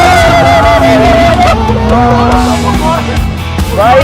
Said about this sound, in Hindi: चलो गाइस गाड़ी को खींचते हैं और देखते हैं क्या पावर है गाड़ी के अंदर